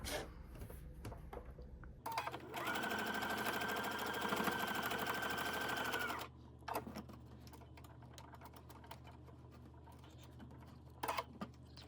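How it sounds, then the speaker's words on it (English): A sewing machine stitches seams along both sides of a quilt block for a Polaris quilt's quarter-square triangles, running steadily for about four seconds, with soft handling clicks before and after. "we're gonna sew on either side of that"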